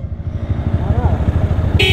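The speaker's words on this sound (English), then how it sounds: "Oh, you wanted to hear the horn?" A motorcycle's factory horn gives one short honk at the very end, cutting in over the close, pulsing rumble of the running engine.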